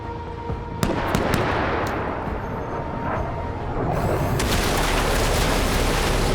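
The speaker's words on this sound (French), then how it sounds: "J'aime bien ce petit tir de plasma." Plasma weapon fire in a video game: dense, continuous crackling bursts with sharp popping onsets, loud and sustained throughout with no talk.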